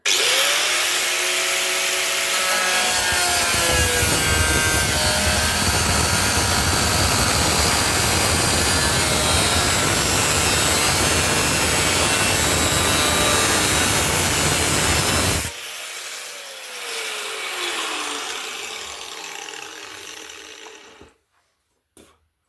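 Cutting a repair panel on a classic Austin car with a loud power tool, running as a steady harsh grind for about fifteen seconds, then stopping abruptly and leaving quieter workshop noise.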